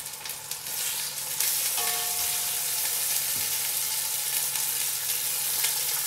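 Chicken pieces laid into a hot pan for a peppadew pepper chicken bake, the sizzle swelling loud and steady within a second and holding close, no talk.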